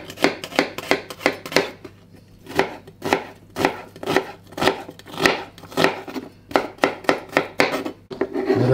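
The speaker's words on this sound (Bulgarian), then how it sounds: "След това нарязваме една глава лук." Steady knife chopping an onion on a cutting board, quick uneven strokes repeating close up, with a short pause partway through.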